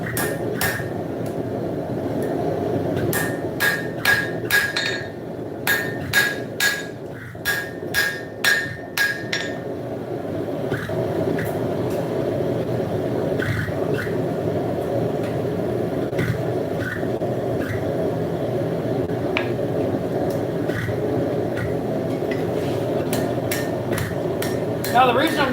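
Scrap steel is hammered flat on the side of an anvil, close and loud, with a run of sharp ringing metallic blows in the first ten seconds, then a steadier background of workshop noise with occasional lighter strikes.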